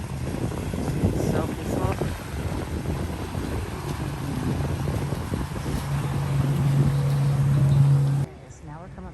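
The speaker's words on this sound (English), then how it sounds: "here comes one of those beautiful boats now" A resort ferry boat passes along the river at a riverside hotel, its low steady engine drone building gradually under wind noise before cutting off, while a person briefly speaks.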